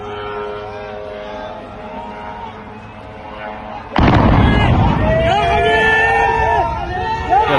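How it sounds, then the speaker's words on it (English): A drone strike explosion at a U.S. base in Bahrain bursts in loud and broad halfway through, following a steady murmur of a crowd, with shouting voices and commotion continuing after the blast. "Iranian drone hits a U.S. base in Bahrain."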